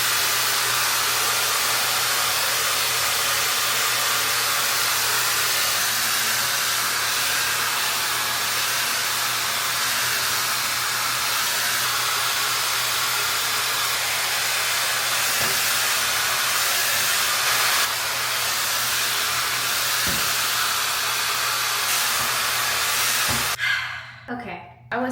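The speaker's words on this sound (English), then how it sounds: "When I blow dry my hair, I don't like to hover for 10 minutes, 5 minutes." A hair dryer set to warm air blows steadily and loudly for about twenty-three seconds while drying curly hair, a continuous whooshing rush that cuts off abruptly near the end.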